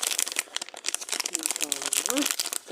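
Plastic packaging around a pair of wireless earbuds ordered from AliExpress crinkles and rustles as it is unwrapped up close, with a person talking over most of the handling.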